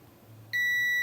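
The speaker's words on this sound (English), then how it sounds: "my multimeter in continuity mode, which is mode that beeps when we have a complete circuit" A multimeter set to continuity mode, probing a coil on a games console circuit board, gives a steady, loud electronic beep that starts halfway through and holds to the end, heard alone after a quiet stretch.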